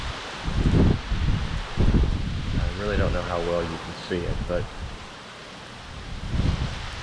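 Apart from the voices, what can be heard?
Hurricane Laura wind and heavy rain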